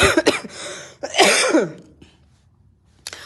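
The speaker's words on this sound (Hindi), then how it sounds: "और खांसी के लिए भी माफ़ी चाहती हूँ" A few harsh coughs close to the microphone, two quick bursts followed by a longer hacking cough, then a short final one after a pause.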